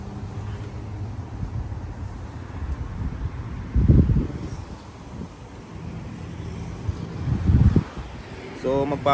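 Strong outdoor wind rumbles against the microphone, with two loud, buffeting gusts rising out of a steady low roar.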